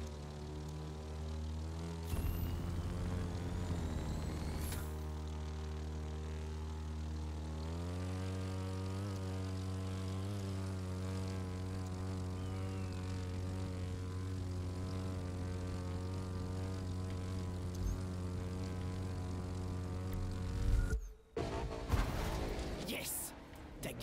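Propeller airplane flying in the video game The Crew 2, a steady droning engine hum that shifts pitch partway through, continuous and prominent with talk over it.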